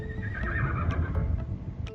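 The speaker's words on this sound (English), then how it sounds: "he starts whinnying when he knows it's time to eat" A horse whinnies loudly and close in a barn at feeding time, a long wavering neigh over a rumbling, busy background with a few faint knocks.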